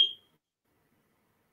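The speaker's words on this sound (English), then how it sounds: "I think there's a like a fire alarm or something." A fire alarm gives one short, high electronic beep right at the start, then silence follows.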